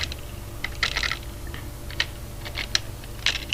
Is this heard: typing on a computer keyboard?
yes